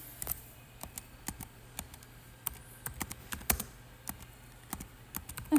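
Keys clatter on a computer keyboard as text is entered into an HTML table during a coding lesson: a steady stream of quick, light, irregular clicks, fairly faint and close, with no voices.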